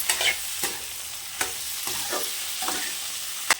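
Tomato frying and being stirred in a pan of potato and pea curry, a steady soft sizzle broken by several scraping stir strokes, close and without talk.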